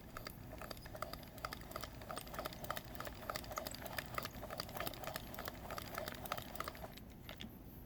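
Steady mechanical clattering from a hand-cranked knitting loom, with rapid, irregular clicks and taps, a busy rattling rhythm that runs continuously before easing off near the end.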